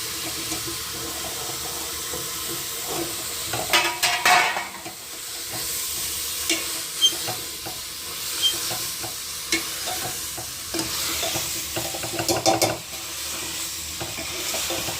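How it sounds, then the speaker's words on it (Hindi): Tomatoes go into a green onion sabzi, which sizzles steadily in the pan while a spoon stirs and scrapes through it with a few louder clatters, close up and with no one talking. "थोड़े से टमाटर डाल देते हैं ना हरी प्याज में"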